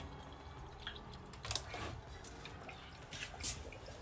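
Wine poured from a bottle into a glass, a soft trickling splash with a couple of brief louder gushes, close and quiet, with no talking.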